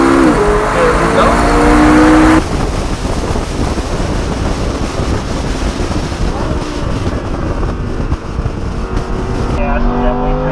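A Lamborghini or McLaren driven on a race track, engine roaring and then masked by heavy rushing wind noise, loud and continuous, with speech mixed in.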